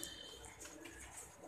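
A breeding-pair female pigeon gives soft, repeated cooing, close by against a steady hiss of background noise.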